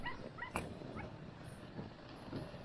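Team of nine sled dogs, eight females and one male, hooked up for a sled run, yipping and whining excitedly in a busy chorus of short high cries, fairly distant, over steady outdoor noise.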